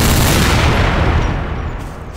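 A weapon fires in Garry's Mod: a single loud, close blast opens with a sharp broadband crack, then its heavy boom and rumble fade over about two seconds with no voices.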